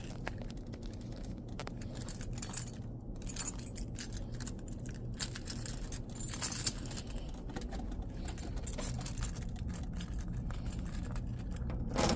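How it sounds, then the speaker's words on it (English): Keys jangle and clink softly in short bursts while someone gathers them up, faint and close against steady background noise, with no talking. "Get my keys."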